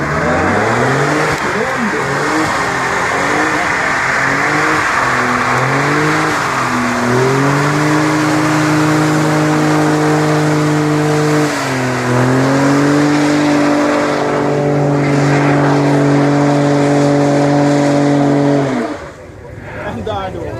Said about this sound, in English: Sound emanating from the back of that car.